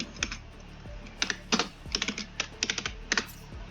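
A new backlit computer keyboard clicks under quick, irregular typing, with sharp nearby keystrokes coming in short bursts over a quiet room.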